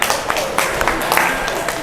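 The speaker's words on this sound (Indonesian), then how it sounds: "Tepuk tangan." An audience applauds at an Islamic boarding school workshop on implementing the Merdeka curriculum, giving a short burst of dense, steady clapping that fills the room for under two seconds.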